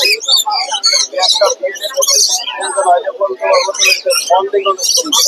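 A black-capped lory gives dense, bright chirps and calls at a crowded bird market in Mirpur, continuous and fairly loud, with people talking in the background.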